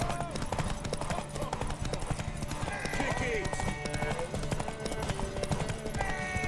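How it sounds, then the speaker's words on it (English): Horse hooves clip-clop steadily in The Witcher 3, a rhythmic gallop of close, loud hoofbeats mixed with game sounds while a voice talks over it. "Want that horse, don't ya?"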